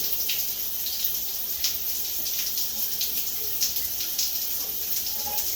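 Water from a shower with a Delta faucet runs steadily after a cartridge replacement, a continuous hissing spray with small splashing variations, close and even throughout.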